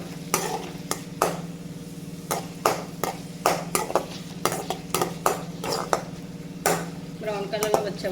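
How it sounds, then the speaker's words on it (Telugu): Onions fry with a pinch of turmeric in a pan while a utensil stirs them, giving repeated sharp clinks and scrapes in uneven bursts over a low, steady sizzle. "ఈ బాగా బ్రౌన్ కలర్లో వచ్చే వరకు మనం ఫ్రై చేసుకోవాలి ఆనియన్స్ని"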